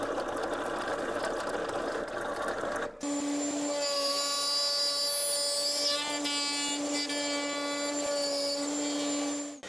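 A power tool cutting a slot hole in wood, first a rough grinding rasp, then a high whining motor with a sustained steady pitch, loud and close, easing off at the end.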